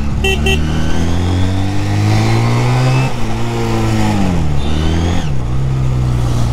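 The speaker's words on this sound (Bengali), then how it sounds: "আপনারা তো সাউন্ডটা শুনতেই পারলেন কেমন সাউন্ড, অসাধারণ একটা সাউন্ড বাইকের" A Honda CD 200 Roadmaster two-cylinder motorcycle engine revs loud and close, holding a steady throb and then rising and falling in pitch with each twist of the throttle.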